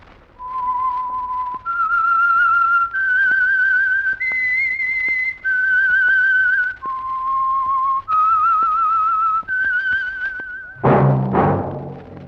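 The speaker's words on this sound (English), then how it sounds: "That whistle is your signal for the Signal Oil Program, The Whistler." Whistled theme tune of The Whistler mystery radio program: a lone clear melody of about ten sustained notes, stepping up and back down, ending in a brief louder burst of sound.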